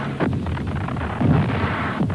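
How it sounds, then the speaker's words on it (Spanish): Bombs burst at Tan Son Nhut airport in Saigon during the Vietnam War, a loud, dense rumble with a few heavier low thuds rolling one into the next without a break. "5 bombarderos capturados pilotados por militares norvietnamitas bombardearon el aeropuerto Tan Son Nhut"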